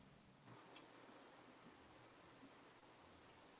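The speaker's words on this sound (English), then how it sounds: "Is that the crickets?" Crickets chirp in a steady, high-pitched pulsing trill, a constant insect chorus that swells slightly after the first half second and continues at an even rhythm with no voices.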